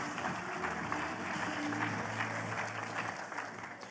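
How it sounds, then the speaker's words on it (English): Audience applause fills a startup-stage conference hall, steady broadband clapping at moderate level running throughout with faint background tones and no clear talk. "Applause, please, applause, applause."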